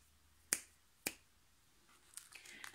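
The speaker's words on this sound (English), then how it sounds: "he snapped his fingers" Two crisp finger snaps about half a second apart, close and clear in a quiet room, followed by faint soft rustling.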